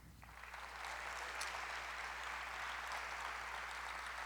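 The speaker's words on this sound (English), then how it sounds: "give a more than deserving round of applause to the whole OneJax team" Applause from the audience at a humanitarian awards event in a hall, a steady, even wash of clapping that swells in over the first second and then holds at a moderate, slightly distant level.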